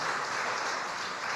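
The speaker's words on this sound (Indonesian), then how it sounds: "Beri tepuk tangan yang meriah bagi Tuhan Yesus saudara." A church congregation applauds in a steady, dense wash of clapping, fairly distant and even, with no gaps.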